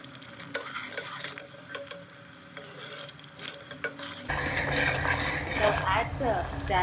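Spoon stirring manathakkali kuzhambu with turmeric powder and salt in a pot, quiet scraping and clinks followed by a louder bubbling, simmering wash as it starts to boil.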